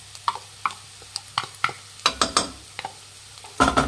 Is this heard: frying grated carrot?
yes